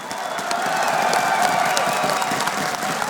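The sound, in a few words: crowd cheering at EMS One Katowice CS:GO semifinal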